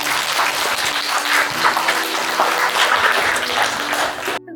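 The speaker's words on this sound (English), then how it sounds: "Applause for Mbak Dila." An audience at an English club meet-and-greet claps in steady, dense applause that stays fairly loud for several seconds and then cuts off abruptly.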